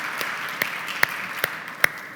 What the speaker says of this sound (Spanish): yo creo que merece un aplauso.